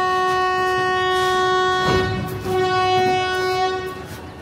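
The Tamralipta Express sounds a long, loud, steady horn blast as it pulls out of Uluberia station, with wheel and carriage rumble underneath and the horn cutting off near the end.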